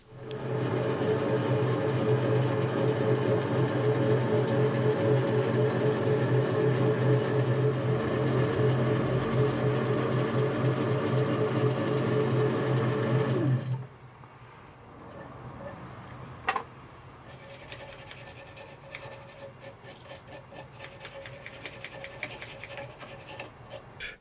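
A metal lathe knurls a pin punch, with a loud steady machining drone and rhythmic scraping for about fourteen seconds, then the motor stops and quieter clicks and handling noises follow.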